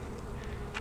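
Honey bees on a hive frame in winter give off a faint, steady buzzing drone, low and continuous, with a slightly louder buzz of a passing bee near the end.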